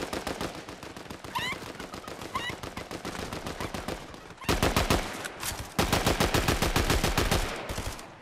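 Fortnite gunfire, rapid automatic bursts in fast steady rhythm, loud and close, growing denser and louder in the second half with a few short gaps.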